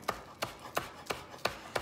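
Green onion being chopped with a knife, six crisp, evenly spaced strikes landing in a steady rhythm, close and fairly quiet with no voices.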